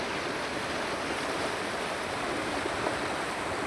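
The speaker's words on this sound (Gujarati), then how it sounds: "પૂર આવ્યું છે, પહેલું ચોમાસાનું પહેલું જ પૂર, અને નદી ઓવરફ્લો થઈ ગઈ છે." The Kalubhar river near Umarala in Bhavnagar, Gujarat, swollen by the first monsoon flood and overflowing its banks, gives a constant, loud rushing roar of water with no break.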